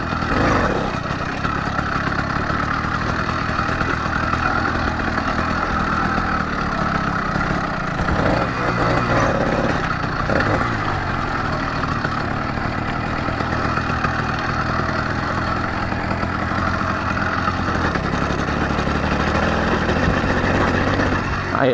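Several motorcycles, among them an old Honda CG, idling together close by at a roadside meetup, a steady mid-pitched engine drone with occasional small revs throughout.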